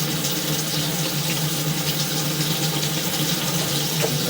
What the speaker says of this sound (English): And so we'll run some water for a minute